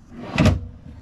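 A soft-close drawer in the kitchen of a 2024 Lance 1172 truck camper slides shut, giving one short, muffled closing sound up close, with a brief cushioned thud and no voices.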